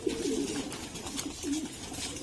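Taiwan pigeon cooing in a loft, repeated low rolling coos close by, with faint background hiss and no talking.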